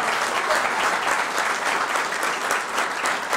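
A banquet-hall audience at a veterans recognition breakfast applauds for a Marine Corps veteran, a steady, dense wash of many hands clapping that stays loud and even throughout.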